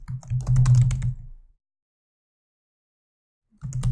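A computer keyboard types a heading in quick, close clicks for about a second and a half, then stops into silence before a fresh burst of keystrokes.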